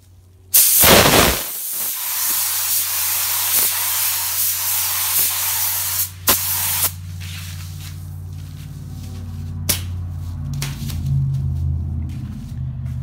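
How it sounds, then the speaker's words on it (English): A paint spray gun misting a quick candy paint tack coat, run at higher than normal air pressure, gives a loud steady hiss after a sharp burst at the start, with a low rumble underneath and a few clicks and pauses. "you just want to kind of mist it on really quick, really high up"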